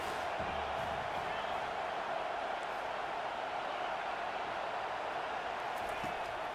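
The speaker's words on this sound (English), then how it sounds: "Decibels rising as the crowd gets behind this defense on 3rd down." Steady broad roar of a video game stadium crowd in NCAA 25 football, swelling behind the defense on third down, continuous and fairly loud with no talk over it.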